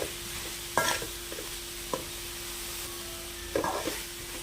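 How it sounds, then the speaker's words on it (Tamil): Soya chunks being stirred through masala in a pan, a soft steady sizzle broken by a few scraping clatters of the spoon, close and without speech. "மீல் மேக்கரோடு எல்லா சைடும் கோட் ஆகிற மாதிரி நல்லா மிக்ஸ் பண்ணிடலாம்."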